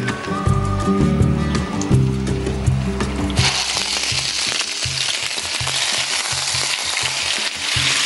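Onion paste fries in hot oil with chilli and raisins, a loud, crackling sizzle that takes over after a few seconds of tonal music at the start.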